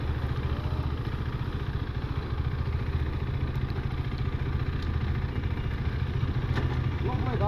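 A motorcycle fitted with an aftermarket exhaust pipe idles and rumbles steadily nearby with a low, throbbing engine note, and people chat over it.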